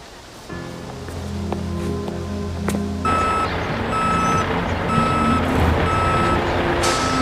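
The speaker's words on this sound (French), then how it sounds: "Alors, prenons le camion." A truck starts up with a low engine rumble, then reversing beeps begin and repeat steadily and loudly over the idling engine and some background noise.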